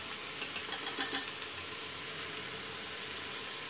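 Bottle gourd (ghiya) pieces frying in a hot pan give a steady, even sizzling hiss throughout, close and constant, with a few faint clinks near the start.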